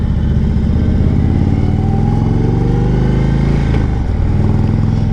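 Indian Sport Chief RT motorcycle riding toward a dealership and slowing to a stop: a loud, continuous close-up engine drone with heavy wind rumble, its pitch easing slightly near the end.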